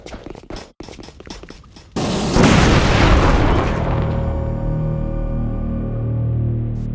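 A loud, deep grenade blast in The Thing Remastered shooter follows a few sharp gunshot-like cracks, then a long rumbling decay that fades under a low sustained tone.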